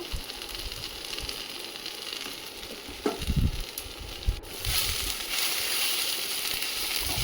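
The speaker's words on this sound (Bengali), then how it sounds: "এবার আমি তাতে একে একে মশলাগুলি দিয়ে দিচ্ছি হলুদ গুঁড়ো লঙ্কা গুঁড়ো জিরে গুঁড়ো ধনে গুঁড়ো" Ground turmeric, chilli, cumin and coriander hitting hot oil in a pan for a tangra fish and potato curry, a soft steady sizzle that swells louder midway, with a brief clatter.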